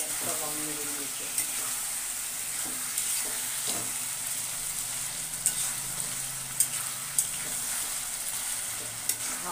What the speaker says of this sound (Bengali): আমি এবার এখানে মটনটা দিয়ে দিলাম